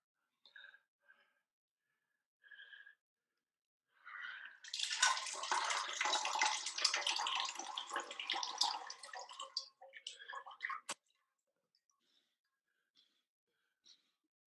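A jala neti nasal rinse with water poured through a nostril, heard as a close, continuous splashing gush lasting about six seconds, framed by a few quiet breaths.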